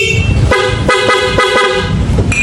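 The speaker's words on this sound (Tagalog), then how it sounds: "Busina." A Honda Click V3 scooter horn honks in a quick series of short toots over a steady idling engine, loud and close.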